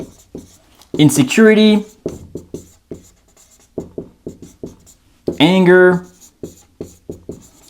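Marker strokes squeak in short bursts on a board, writing words one after another in a steady rhythm of taps and scrapes, with someone talking between and over the writing.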